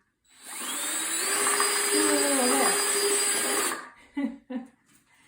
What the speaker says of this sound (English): I allow the bit to do the work where it starts cutting into the plastic